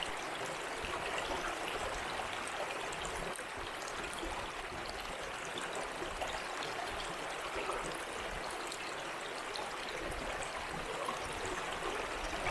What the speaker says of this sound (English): This is the beginning of that little creek that runs through the beach up there.